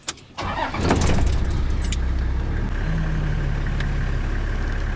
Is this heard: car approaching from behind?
yes